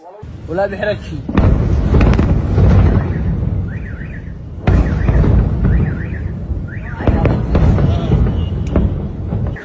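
Airstrikes hit Yemen's international airport, sending several heavy broadband booms at intervals while a siren-like alarm wails over them, loud and close, with a voice talking throughout.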